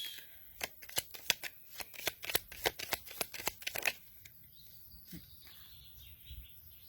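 Oracle cards are shuffled and drawn by hand during an intuitive card reading, giving a quick run of crisp riffling snaps and slaps for about four seconds, then a soft card placed down and near silence.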